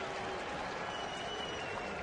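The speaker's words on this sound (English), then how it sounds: "Nice afternoon crowd here in Cincinnati." Afternoon baseball crowd at a ballpark in Cincinnati claps and murmurs steadily, a broad, even wash of applause heard from a distance without any sharp peaks.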